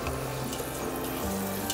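Water runs steadily from a kitchen tap during home cooking, a close, continuous splashing flow with no pauses and no voices.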